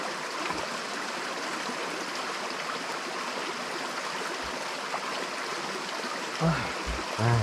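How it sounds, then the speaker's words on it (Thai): Steady rushing of a flowing stream in a mountain forest at night, continuous and even throughout, with a few faint low thumps near the end. "ยิ่งมีเสียงน้ำไหลตลอดทั้งคืน"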